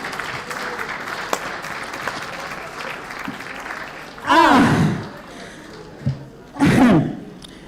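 Audience at a women's conference in Gambia applauding after a talk, a fairly steady wash of clapping with two louder swells near the end, a voice speaking briefly over it.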